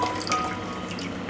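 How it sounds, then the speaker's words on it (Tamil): Rice goes into a pot of boiling water for chicken biryani, producing close, wet splashing and bubbling with small drips and pours over a brief continuous watery hiss, no talking. "அரிசி போட்டுக்கலாம்."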